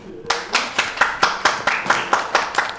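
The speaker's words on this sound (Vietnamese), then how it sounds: "À, cho một chàng vỗ tay đi." A classroom of students claps in unison at a steady, brisk beat, about ten loud, close, evenly spaced claps with no talking.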